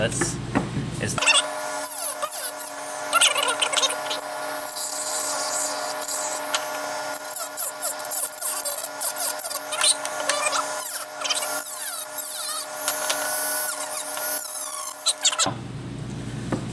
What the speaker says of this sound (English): I'm going to cut this out with a Dremel tool by the switch